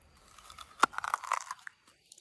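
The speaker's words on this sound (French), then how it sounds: "Écoutez le croquant." A crunchy Hawaiian rose apple is bitten close up: one sharp crisp snap, then a quick flurry of wet crunching chews that trail off into quiet, with no talking.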